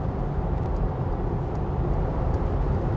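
Steady, broadband road roar from a Mercedes EQE SUV 350 4Matic cruising at speed on a concrete surface, a constant low rumble with no voices.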